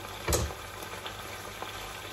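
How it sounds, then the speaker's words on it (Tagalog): Food simmers and crackles steadily in a pot, a constant bubbling hiss with a soft clunk near the start. "hayaan na natin siyang kumukulo-kulo hanggang maluto siya"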